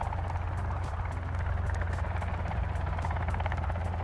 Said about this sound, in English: Why do these helicopters keep flying around?